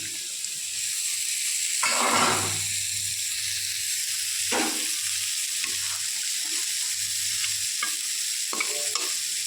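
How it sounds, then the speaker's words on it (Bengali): Magur fish added to a boiling green banana curry gravy in a pan, a steady bubbling sizzle broken by several scraping stirs and soft knocks. "এবার মাছগুলোকে আমি দিয়ে দিলাম"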